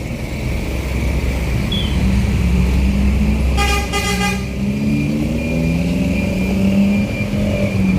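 Vehicle horns honking on a busy traditional morning market street during Ramadan, a repeated pair of short toots standing out midway over steady traffic and engine rumble, fairly close.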